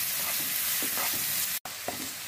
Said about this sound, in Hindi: अब हम इसमें प्याज ऐड करेंगे और इसे हमें सॉफ्ट होने तक भून लेना है।